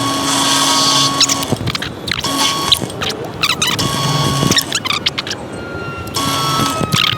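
A 1/4 inch drill bit, lubricated with oil, bores holes while making lamp brackets for a 1951 Dodge B3B truck, whining in several separate bursts with short pauses and scraping between them, loud and close.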